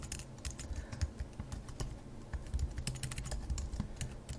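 Quick, close clicks of typing on a computer keyboard, with irregular bursts of keystrokes and no talking.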